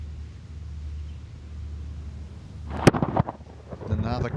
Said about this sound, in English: Another crack of thunder.